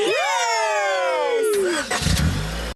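A cartoon car engine starts with a long, falling whine that slides down in pitch, then a short, loud rumbling sputter before it cuts off.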